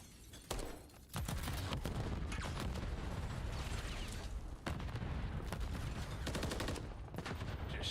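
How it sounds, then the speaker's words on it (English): Distant gunshots in a Call of Duty Search and Destroy esports match: sharp cracks at irregular intervals over a steady mechanical background hum, fairly faint and without talk. "Just shots at range."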